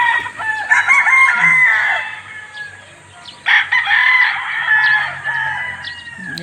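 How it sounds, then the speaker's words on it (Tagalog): Several chickens and a rooster crow in repeated long calls at about 6 AM on an overcast morning outside a dormitory, some close and loud, others farther off, with soft clucking between crows. "Ang dami pong manok dito."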